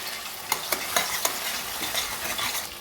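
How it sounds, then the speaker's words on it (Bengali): Potatoes being stirred into fried spice paste for a vegetarian aloo dum, with a steady loud sizzle of oil and several sharp spatula scrapes against the pan near the start; no talking. "আলুগুলো মশলার মধ্যে নাড়াচাড়া করে নেব।"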